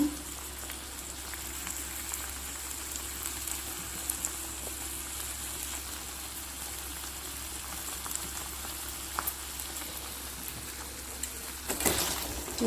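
Prawn masala sizzles and bubbles steadily in a hot pan, a continuous close frying hiss with a brief louder crackle near the end and no talk.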